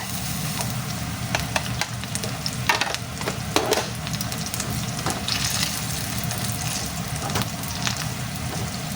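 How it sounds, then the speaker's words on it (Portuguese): Butter sizzling and frying in oil in a pan while making farofa, a steady crackling hiss throughout with occasional brief scrapes and pops, close and alone with no talk. "eu vou colocar um pouco de manteiga."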